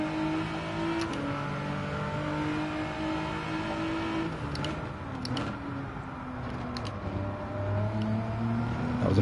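Race car engine in Gran Turismo 7 accelerating hard out of a corner, steady revving tones climbing and shifting through gears, loud and continuous with no talk over it.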